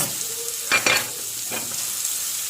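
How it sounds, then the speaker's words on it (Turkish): Spinach root heads sauté in a hot pan with a steady, even sizzle throughout, broken by a few louder scraping stirs as the pieces are moved around, close up and with no talking. "ıspanağın başında gördüğünüz gibi onu soteleyeceğim"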